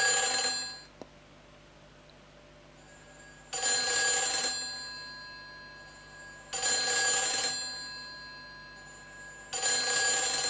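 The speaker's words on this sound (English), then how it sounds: "Phone call." A telephone rings in the video game Silent Hill 3, with three loud bursts of bright electronic ringing spaced a few seconds apart and a hushed hum between them.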